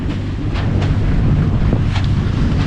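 Strong, steady headwind buffets the microphone on a sailboat with sails lowered on open water, a constant low roar with faint splashing and rigging noise beneath.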